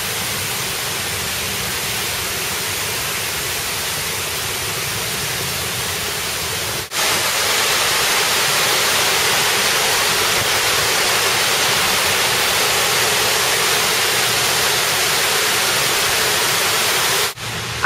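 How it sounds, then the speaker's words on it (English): Loud, steady roar of water cascading down a water wall attraction in Los Angeles, continuous and close, with a brief dip partway through before the rush resumes. "Here we are approaching the water wall."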